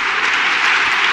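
An audience breaking into steady, dense applause, a continuous wash of many hands clapping with no voices above it.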